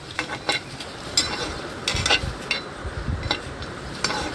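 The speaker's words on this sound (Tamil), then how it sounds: "நல்லா வதக்கிக்கணுங்க." Vegetables being stirred and sautéed in a pan, with soft sizzling and intermittent scrapes and clinks of a spoon against metal.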